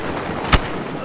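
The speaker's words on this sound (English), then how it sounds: "starting gun doesn't sound that good" A single gunshot from the starting gun in Battlefield Hardline cracks sharply mid-clip, short and punchy, over a steady bed of game background noise.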